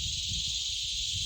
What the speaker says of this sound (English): You can hear the cicadas are starting to, not just starting, they're really singing.